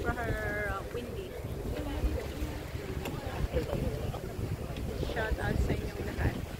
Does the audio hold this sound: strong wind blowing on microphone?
yes